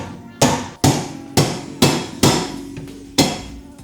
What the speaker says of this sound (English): just get your mallet, give it a couple of taps on either side, give it a bit of force, and it should break free